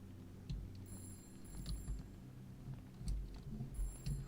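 Telephone ringing in the haunted PS1-style horror game Chasing Static, repeated bright electronic rings over a low droning ambience, fairly faint and distant.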